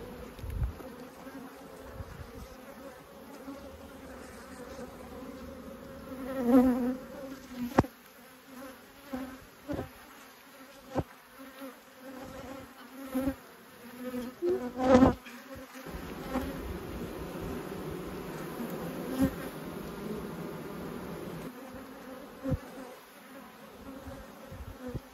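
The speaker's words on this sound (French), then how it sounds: "on peut voir la colonie qui s'agrandit bien au fur et à mesure selon les besoins de l'abeille" A honeybee colony drones steadily among its hive frames at close range, a continuous insect buzz with occasional sharp knocks and handling sounds, and no talking over it.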